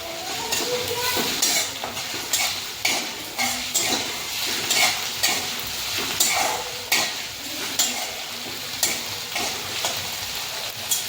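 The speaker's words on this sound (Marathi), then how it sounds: "पेस्ट चांगली कांद्यामध्ये मिक्स करून घेऊ।" Ginger-garlic paste stirred into onions frying in oil for a peanut amti, with steady sizzling and repeated scraping strokes of a spoon against the pan, close and fairly loud throughout with no talking.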